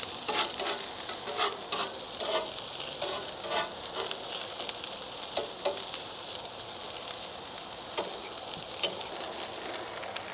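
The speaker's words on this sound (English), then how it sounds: "I just want to get a nice good saute" Onions and chopped meat for a chopped cheese sandwich sizzle on a griddle, a steady hiss of frying broken by frequent scrapes and taps of a spatula stirring them, at moderate volume.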